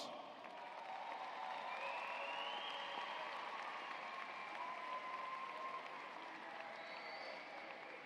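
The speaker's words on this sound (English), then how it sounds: "give them a round of applause" Sustained applause and light cheering rise from a large crowd at a college commencement, a broad, even roar of clapping from across a big venue lasting several seconds, with a few scattered whistles and shouts.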